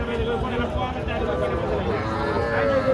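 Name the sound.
cattle mooing at Sahiwal and local calf market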